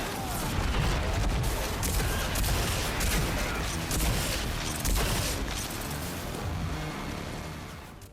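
Dense, loud gunfire from shooter game Rage 2, with continuous rapid shots and explosive bursts filling the whole stretch alongside game background noise.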